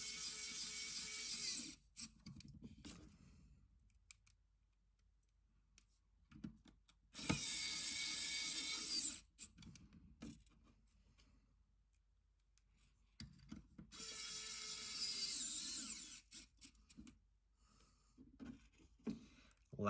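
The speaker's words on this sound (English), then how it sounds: "And now we're going to do the rear 4 screws" A screwdriver drives the four rear screws into an aluminum console case in three bursts of sharp whirring with quiet handling and rattling between them, close and clear with no talk.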